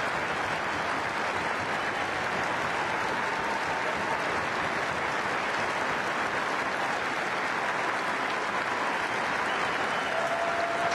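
Perth football crowd applauding in tribute to the Crows, a broad, sustained roar of clapping from a large stadium audience, steady and distant-sounding for the full stretch.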